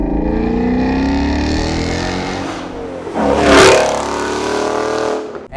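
A Ford Mustang GT 5.0 V8 growls through its loud exhaust while driving: a steady close rumble for about three seconds, then a brief louder swell as the throttle opens, no talking.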